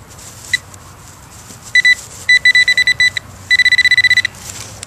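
A metal detector pinpointer probe sounds bright electronic beeps, first a single chirp, then bursts of rapid repeated tones and a longer fast pulsing run, loud and close against a quiet outdoor background.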